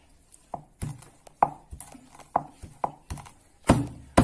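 Raw garlic cloves smashed flat on a cutting board, a run of separate sharp thumps and knocks, fairly close, with short pauses between blows.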